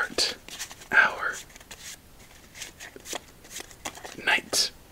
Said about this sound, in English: Let's start this with the nice five simple shuffle start